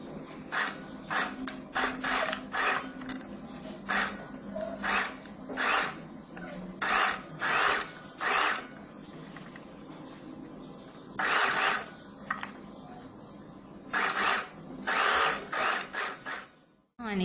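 A sewing machine stitches an umbrella skirt in short whirring runs, starting and stopping repeatedly with brief pauses between bursts, close and fairly loud.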